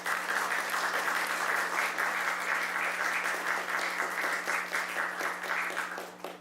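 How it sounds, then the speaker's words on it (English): Steady, sustained applause from a sizable crowd, a dense wash of clapping that fades slightly at the end. "give all of these speakers a hearty round of applause."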